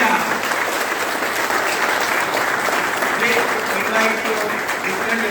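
Loud, dense applause from a live event audience in Himatnagar, Gujarat, steady and unbroken throughout, with crowd voices mixed faintly into the clapping.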